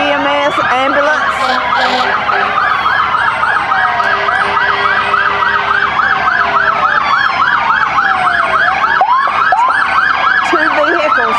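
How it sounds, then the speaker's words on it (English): Union County EMS ambulance passing in a Christmas parade, its siren loud and close, sweeping up and down in rapid repeated wails, with other siren tones layered over it. "I see now the Union County EMS ambulance."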